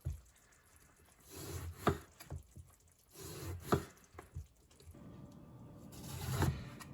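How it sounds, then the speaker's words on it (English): Knife slicing eggplant into quarter-inch rounds on a cutting board, several soft, spaced cuts, each a brief thud, close and fairly quiet, with faint wet squishing between strokes. "All right, eggplant is all sliced up, ready to go."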